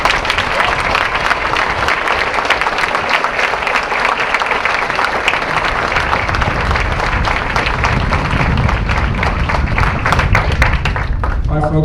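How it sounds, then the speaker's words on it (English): A graduation-ceremony audience gives Marine drill instructors a long, loud round of applause, dense clapping carrying on unbroken and tailing off near the end. "Please join me in a well-earned round of applause for our Marine drill instructors"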